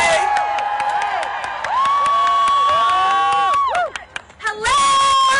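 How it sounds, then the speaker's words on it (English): Loud crowd at an anti-Trump inauguration protest rally cheering, whooping and clapping to welcome a speaker, a dense sustained roar with shrill shouts rising over it and a brief dip near the end. "can we please give a round of applause for Miss Liz Plank, P-L-A-N-K."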